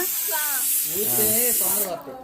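A steady high hiss of steam escaping from a pressure cooker whistle runs throughout, with a person talking underneath; the hiss cuts off sharply near the end.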